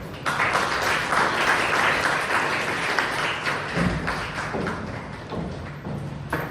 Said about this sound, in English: With a huge round of applause, let me invite on stage Toastmaster Vidya.